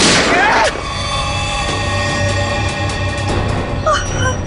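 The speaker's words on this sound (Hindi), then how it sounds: "नहीं तो एक और गोली चलाता हूं मैं।" A gunshot in a tense hostage scene from the Indian crime drama CID, a loud sharp blast at the start followed by echoing ringing and tonal background music.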